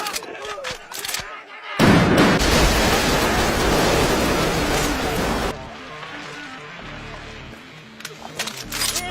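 Gunfire in an action anime, a dense burst of loud shots and blasts lasting a few seconds, then fading into quieter scene sounds, with a narrator's voice talking around it.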